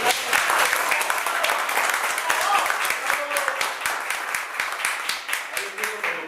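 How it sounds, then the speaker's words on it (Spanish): Audience applause at a symposium, many hands clapping steadily and fairly loud for about six seconds, with faint voices and a few brief tones mixed in beneath. "así que les pido un aplauso para la gente"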